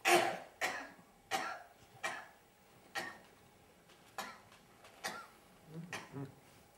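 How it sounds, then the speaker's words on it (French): A person coughs repeatedly on a doctor's instruction during an examination, about eight harsh bursts spaced roughly a second apart, close and fairly loud in a quiet room. "Toussez, toussez."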